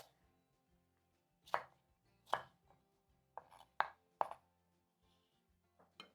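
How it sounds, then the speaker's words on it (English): A knife chops capsicum into bite-sized pieces on a board, giving about eight sharp, separate thuds with uneven gaps, close and clear with quiet in between. "cut into bite-sized pieces"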